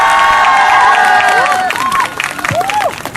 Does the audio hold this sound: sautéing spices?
no